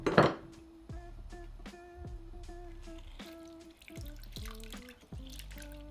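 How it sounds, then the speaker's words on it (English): Juice of two limes squeezed into a Christmas punch: a quiet series of distinct liquid drips and small splashes, arriving in an uneven rhythm after an initial sharp splash. "Next in goes the juice of 2 limes."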